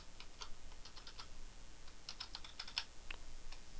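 Rapid, irregular typing on a computer keyboard while creating a logo in GIMP, light clicky keystrokes in short bursts, fairly faint and close, with no talking.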